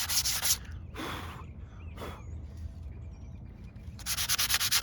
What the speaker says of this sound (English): make sure you sand it all down